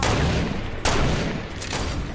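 Rapid gunfire in the video game Fortnite, a couple of sharp loud shots cutting through a dense crackling burst of battle noise.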